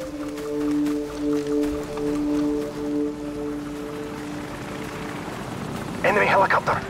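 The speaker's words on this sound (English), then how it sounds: "Enemy helicopter! Get down!" An enemy helicopter approaches in a military shooter video game, its steady rotor drone hovering in the background while voices talk over it and a burst of higher noise comes near the end.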